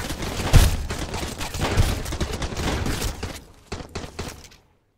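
Submachine gun fire in the survival game Sunkenland comes in rapid, crackling bursts over several seconds, fairly loud, then thins into a few scattered shots before falling silent.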